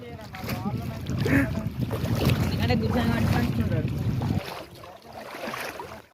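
Low rumbling engine of a boat running close by with wind noise, cutting out near the end, and a voice speaking briefly.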